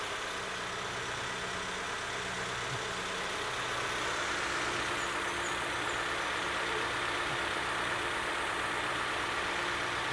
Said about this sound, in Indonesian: dengan begini mesin mobil kita start, air radiator yang baru kita isi akan bersirkulasi